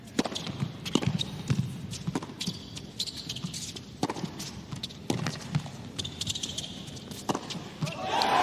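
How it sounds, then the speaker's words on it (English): Players' footsteps on a hard tennis court during a WTA Finals 2024 match between Coco Gauff and Qinwen Zheng: quick, sharp patters and taps in irregular bursts, with faint crowd murmur and voices underneath. "Wonderful to hear the footsteps,"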